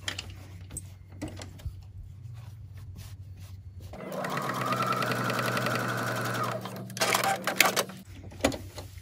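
A sewing machine stitches a zipper onto infinity scarf fabric, running in one steady, close whirring burst for several seconds before stopping, with light handling noises around it.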